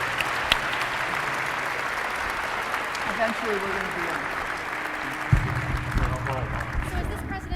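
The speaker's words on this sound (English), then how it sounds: "How about a round of applause for our panelists?" An audience at a presidential forum applauding its panelists, a dense, steady patter of clapping filling the room for several seconds while a voice speaks over it.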